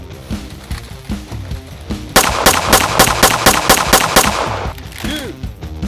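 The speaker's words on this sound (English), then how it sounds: "Oh. Machine gun." A toy Nerf machine gun fires a rapid, evenly spaced burst of sharp clacking shots, loud and close, after softer clicks and mechanical noise, followed by a brief electronic whine.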